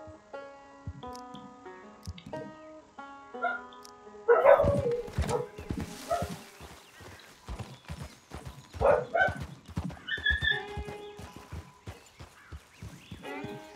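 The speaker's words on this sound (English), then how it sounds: "Is that a dog?" Dog barking in Red Dead Redemption 2, a few short yips and barks rising over game ambience, music tones and hoofbeats of a horse, moderately close.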